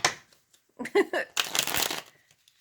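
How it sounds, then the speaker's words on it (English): Playing cards are shuffled in a few quick riffling bursts up close, brief fluttering rasps separated by short pauses, with a faint voice early on. "Some more shuffles."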